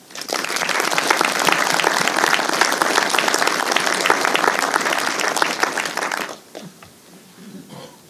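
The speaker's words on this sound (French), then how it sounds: "je vous propose qu'on les applaudisse également." Crowd at a 2023 New Year's greetings ceremony in Bernay applauds volunteer associations, sustained dense clapping for about six seconds before it abruptly fades to a few scattered claps and room noise.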